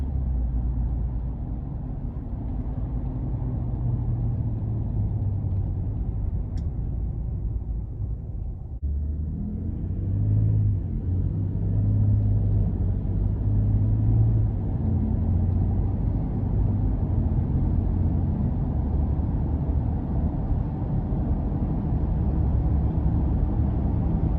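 A 2019 Ford F-150 Raptor pickup with huge off-road tires and off-road shocks drives along, producing a steady low cabin rumble of engine and road noise that swells slightly partway through.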